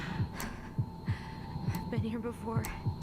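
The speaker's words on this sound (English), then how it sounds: "Heartbeat sounds set me off" A slow, steady heartbeat effect from the video game Tell Me Why thumps repeatedly in low, evenly spaced beats under a faint background hum, with a few soft tonal game sounds drifting over it.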